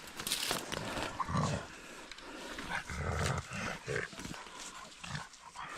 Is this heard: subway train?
no